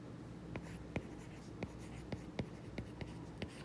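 Someone writes out an equation by hand, with pen strokes scratching and tapping at an irregular pace, close and fairly faint against a low background hiss.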